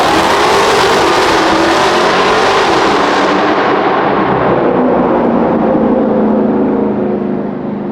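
A Dodge Charger Daytona 392 launches hard under launch control, its engine a loud roaring blast of acceleration that stays intense throughout, easing slightly in brightness toward the end, with no talking.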